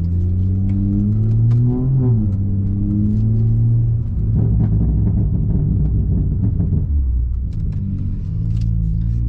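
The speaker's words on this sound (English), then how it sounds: "It does have a burple tune. Let's see if we can hear those burples." A BMW 340i with a burble tune idles and revs up close, its exhaust rumbling in a deep steady drone that rises in pitch, then breaks into crackling burbles as it settles back down, with no talking over it.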